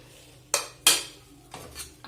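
Crushed cashews and nuts are stirred into a frying mixture in a pan. A spoon strikes the metal in a few sharp clinks and scrapes, spaced apart, over a faint background.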